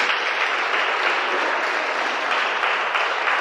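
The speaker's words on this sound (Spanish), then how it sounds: "Alguien que le dé un aplauso al Rey de Reyes" A church congregation applauds in a loud, dense, unbroken roar of clapping that holds steady throughout.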